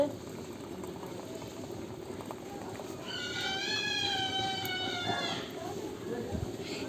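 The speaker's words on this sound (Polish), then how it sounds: "I teraz dolewamy wodę." Hot water is poured into a teapot to brew Turkish tea, a rising liquid fill tone lasting about two seconds over steady kitchen background noise.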